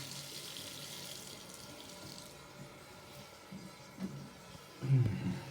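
Water runs steadily from a sink faucet in an old powder room with cracked floor tile, a soft continuous hiss that swells and splashes louder near the end.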